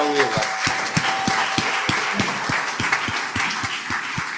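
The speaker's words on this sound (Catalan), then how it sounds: "Aplaudiu-la." Applause from an audience at a talk, a rhythmic, evenly paced clapping with distinct individual claps standing out over a softer spread of hands, and a voice briefly heard at the start.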